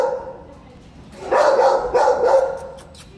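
A five-month-old female puppy barks and yips in a short, close burst of several rapid barks that sit clearly above a quiet room.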